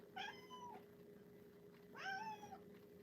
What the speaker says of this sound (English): Are you going to meow the entire sale?